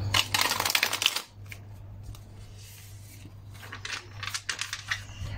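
Stiff, rigid tarot cards are shuffled by hand in quick riffling bursts, a loud flurry at the start, a quieter pause, then more close clicking and slapping of cards.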